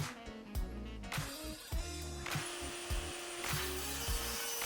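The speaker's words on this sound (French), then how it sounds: "mettre à format des petits panneaux jusqu'à 63 cm de largeur" Small wood panels are being cut to size for an old table's drawer, producing a continuous machine whine with repeated low rubbing and sawing strokes, close and steady.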